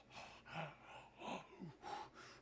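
An audience gasps in a string of short, breathy intakes, about five separate bursts, close and fairly quiet, with no talk over them.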